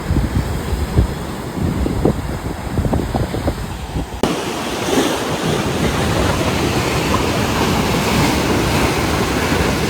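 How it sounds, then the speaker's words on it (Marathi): Sea waves crash and roll at Devgad beach on the Konkan coast at high tide, a loud continuous roar of surf with wind buffeting close by and no talk. "लाटा येतात बघा."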